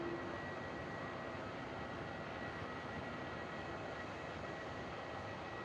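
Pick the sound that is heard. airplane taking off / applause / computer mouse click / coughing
airplane taking off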